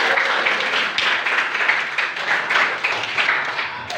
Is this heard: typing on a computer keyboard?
no